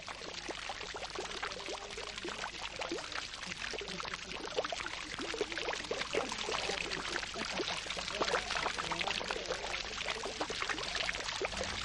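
Water splashes from fountains and small waterfalls in the Mughal garden of Chashma Shahi, a steady dense spray and patter that holds evenly throughout with no voices.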